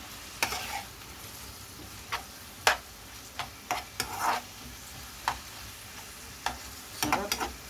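A utensil stirs spinach and sugar in a pan, giving scattered light scrapes and taps over a soft sizzle, fairly quiet and irregular, with no talking.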